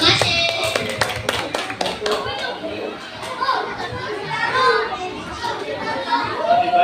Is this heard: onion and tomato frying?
no